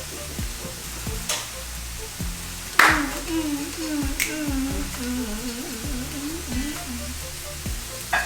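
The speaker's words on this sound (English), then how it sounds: "I like getting a hard sear in it, right?" Beef for spicy Mongolian beef searing hard in a hot pan, a steady close sizzle with sharp pops and crackles and a couple of louder clicks, no talking over it.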